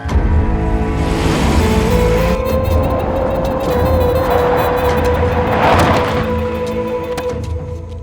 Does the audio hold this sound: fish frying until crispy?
no